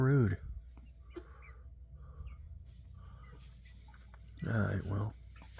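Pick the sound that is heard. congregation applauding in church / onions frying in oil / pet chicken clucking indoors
pet chicken clucking indoors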